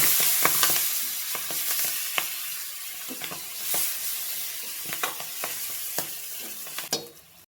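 Fenugreek leaves fry in a pan for a tomato and broad bean curry, giving a steady sizzle with repeated scraping, clattering strokes of a stirring spoon. The sound is close and continuous, and no one talks.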